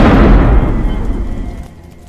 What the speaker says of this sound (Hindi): आसपास कहीं शादी हो रही है पटाखों की आवाज यहाँ तक आई